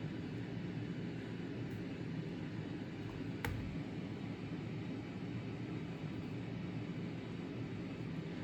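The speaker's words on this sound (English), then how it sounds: "so this is brown noise." A Hatch Rest baby sound machine plays steady brown noise, a deep, even rumbling hiss that stays constant throughout, with one faint click partway through.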